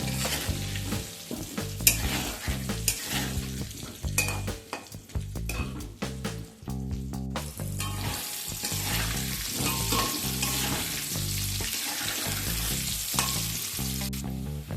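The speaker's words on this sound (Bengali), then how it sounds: "আলুগুলোকে একটু লালচে করে ভেজে নেব।" Potatoes fry in a pan for mutton curry, a steady loud sizzle with repeated stirring scrapes and clinks of the utensil against the pan throughout, with no voices.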